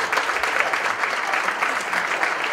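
Steady applause from a crowd at a living statues contest show, a dense wash of clapping that holds at an even level throughout, with no voices standing out.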